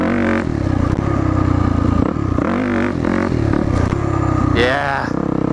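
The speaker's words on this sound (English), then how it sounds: "I usually do it in second gear on this bike." Dirt bike engine revving hard in second gear during a wheelie, a loud continuous motor roar with rising and falling revs and a high whine near the end, mechanical clatter underneath.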